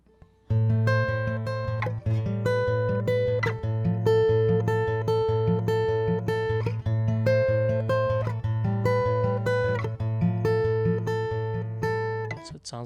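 An acoustic guitar plays a song's riff quickly as a steady repeating pattern over a low droning bass note, with fast, even picked notes, close and clear throughout.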